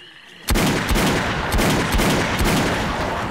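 Rapid firearm shooting in Left 4 Dead 2, a loud sustained burst of repeated shots that starts abruptly and keeps going with steady rhythmic reports, no talking over it.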